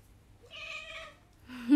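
A pet cat gives a single drawn-out meow, fairly soft, then a second call starts just as the clip ends, in an otherwise quiet room.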